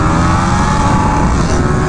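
KTM 1290 Super Duke R motorcycle engine held near its rev limiter, a loud, continuous, close-up roar with a steady high-pitched engine whine and no voices.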